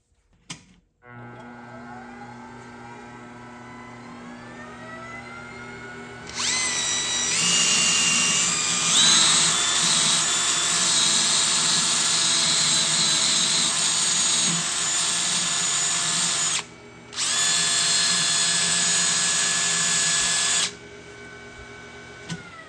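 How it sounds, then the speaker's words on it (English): An engine valve spinning in a drill chuck and pressed against a brass wheel on a bench grinder: a steady motor whine at first, then a loud, bright grinding hiss for several seconds that briefly cuts out and resumes before stopping. "you put the valve in the chuck of the drill, and then you put a brass wheel on your bench grinder at home, and then you can clean it up like that"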